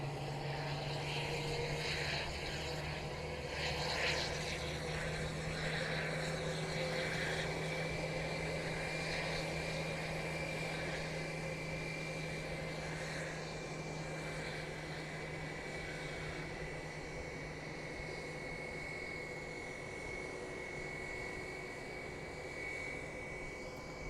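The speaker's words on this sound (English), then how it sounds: "this is the American Airlines Airbus A321 with the Sharklets going out to Dallas-Fort Worth today" An American Airlines Airbus A321 jet with sharklets departs Boise Airport, bound for Dallas-Fort Worth, its engines making a steady, continuous roar with a droning tone held throughout, heard at a distance outdoors without speech.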